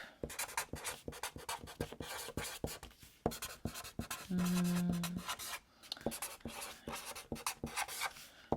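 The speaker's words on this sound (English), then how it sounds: "When I do this, I usually like writing it in a big messy soup." Pen or marker scratching across paper during a kids' music and art activity, a steady run of close scribbling strokes broken by short pauses, with a brief steady hum partway through and no talk.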